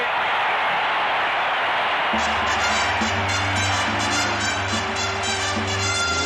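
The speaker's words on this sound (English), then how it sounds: "listen to the Niners crowd across the way" Distant 49ers crowd roaring in a football stadium at Super Bowl XVI, a broad sustained wash of cheering that swells after two seconds, with tonal band or horn sounds layered over the din.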